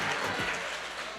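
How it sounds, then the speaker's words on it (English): An audience claps at a 2023 GOTABGAA annual general meeting in Texas, a brief, steady wash of applause filling a hall at even loudness. "Let's clap for Michelle."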